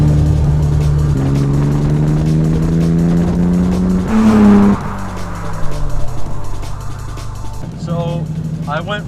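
A Mazda FC RX-7 rotary engine with a new single-exit exhaust, fitted with a resonator and straight-through muffler, revs loudly with climbing, then falling engine tones and a brief tire squeal, while people talk nearby.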